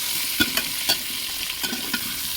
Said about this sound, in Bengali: এঁচড়টাকে আরও খানিকক্ষণ ভেজে নেব।